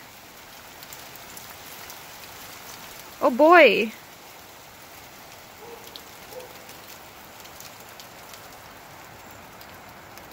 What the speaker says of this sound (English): This is hail. It's not big, but it's hail